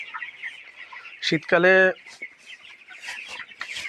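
Chickens on a poultry farm give one loud, close squawking hen call that stands out over steady background clucking and chatter of the flock, with a person speaking briefly.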